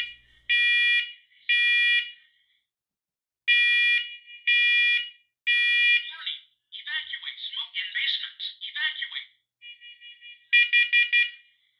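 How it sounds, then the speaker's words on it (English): A First Alert SCO500B wireless smoke alarm, pressed for a test in a basement, sounds in loud, piercing beeps in an uneven pattern, interrupted midway by a short burst of synthesized spoken announcement before the beeping resumes. "here is a demonstration of what happened when I pressed the test button on the smoke alarm"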